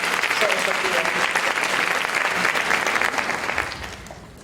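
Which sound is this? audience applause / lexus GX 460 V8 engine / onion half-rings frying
audience applause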